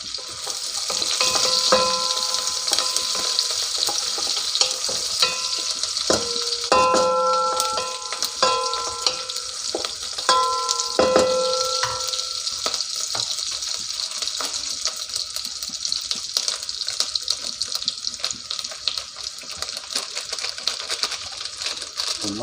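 Curry leaves hit softened onions in a hot pan, setting off a loud, steady sizzle and crackle with scraping stir strokes, while a voice talks intermittently over the frying.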